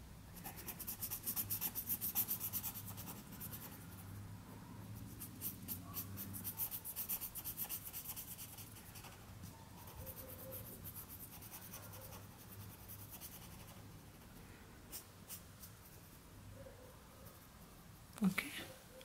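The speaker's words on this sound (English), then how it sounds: "take a brown sketch pen, okay, brown one, and I am going to draw a stamp of this like this" A brown sketch pen colours on a Christmas greeting card with soft, scratchy strokes, quiet and close, in a steady rubbing rhythm that fades a little midway, ending in a brief louder knock.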